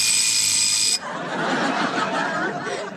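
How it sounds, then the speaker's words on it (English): A loud, steady electronic alarm blares for about a second in a comedy radio sketch, then cuts off into a dense wash of audience laughter and noise. "Bugler, sound the alarm."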